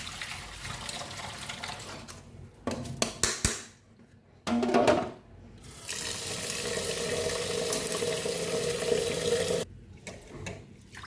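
Rice being washed in a strainer under running tap water for green chana pulao: steady splashing and gurgling flow, broken by brief pauses and sloshing bursts, close and clear.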